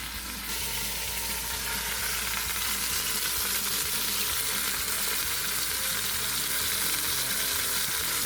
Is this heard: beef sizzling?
yes